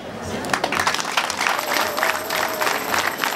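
Audience clapping at a Catholic lay jubilee celebration in Rwanda, a steady broadband patter of many hands sustained throughout, with a speaking voice mixed in.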